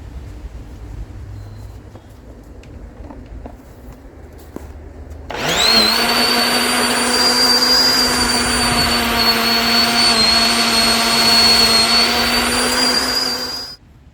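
A Yardworks electric tiller starts up after a quiet stretch. Its motor whines loud and steady with a high-pitched tone while the tines churn dirt. It runs for about eight seconds, then cuts off abruptly.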